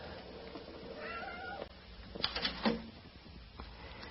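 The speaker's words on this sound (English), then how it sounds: "Here's a nice calico cat that greeted me the minute I came up from the cellar." A calico cat meows several times in a cellar-side house setting, a rising call followed by a louder burst of meows, fairly close and clear over low room noise, with no talking.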